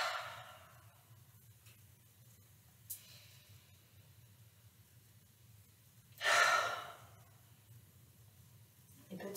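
A slow, calm breath drawn in through the nose and released through the mouth during a yoga breathing exercise, soft and close, with one stronger airy exhale standing out over a quiet low hum.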